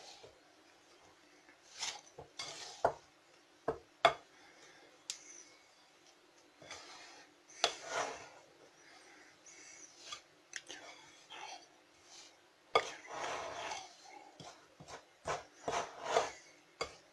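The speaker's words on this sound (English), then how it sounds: "So I'm just going to keep mixing it a bit more." A spoon stirs honey butter in a bowl, making soft, close scraping and rubbing strokes that come in short, irregular bursts with quiet gaps between them.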